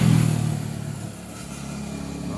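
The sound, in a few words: Honda Beat Fi V2 scooter engine running after repair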